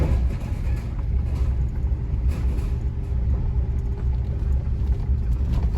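A pickup truck towing a trailer down a country road, heard from inside as a steady low engine and road rumble that drones on without a break.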